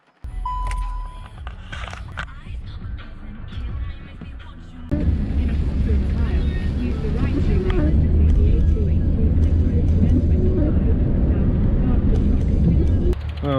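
Industrial surroundings at a triathlon venue in Dartford: a steady, loud rumble of machinery and traffic-like noise that swells after a few seconds and fills the scene, with wind buffeting the microphone and faint voices mixed in.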